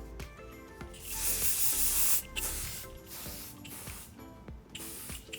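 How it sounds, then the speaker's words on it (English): Extra hold hairspray sprayed onto a man's styled side part or quiff, a loud sustained hiss in one long burst followed by shorter hissing bursts, close to the listener. "Now you hit it with the hairspray and lock it in place"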